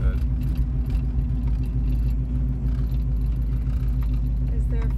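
A low car rolls slowly through a residential neighborhood, its engine a steady deep rumble throughout with faint jangling on top, close and constant with no clear speech.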